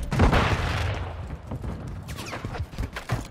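Gunfire in the Call of Duty Modern Warfare III video game, with an SVA 545 and Renetti in use: a loud opening burst of shots and booms, then scattered sharp cracks and rattling fire continuing at a lower level.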